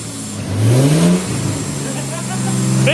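A car engine accelerates through its manual gears, pitch sweeping up, dropping at each shift, and climbing again, loud and close inside the cabin, with a voice speaking briefly over it.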